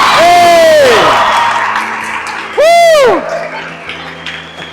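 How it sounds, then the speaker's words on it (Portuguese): A church congregation cheers and whoops loudly with applause, and a strong voice rises twice above the crowd noise. "dá uma salva de palmas a Jesus aí"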